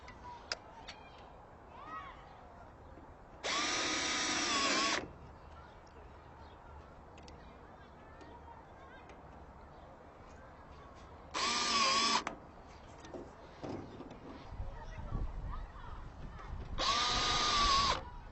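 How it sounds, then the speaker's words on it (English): Power drill driving screws while installing a fireplace insert, in three loud bursts of about a second each, separated by quieter stretches of ambient noise and light handling clatter. "let's get a couple screws in there"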